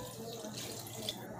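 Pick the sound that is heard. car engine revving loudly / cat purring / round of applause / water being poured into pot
water being poured into pot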